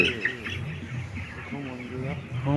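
Chickens on a poultry farm in hot weather, clucking and chirping close by in overlapping calls, a busy flock heard at moderate volume.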